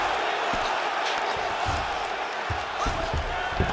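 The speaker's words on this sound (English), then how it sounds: "huge pop from the crowd as the fighters get back up to their feet" An arena crowd at a UFC fight between Khabib Nurmagomedov and Jailton Almeida roars in a steady, dense wash of cheering that holds at an even level throughout, with faint thuds underneath.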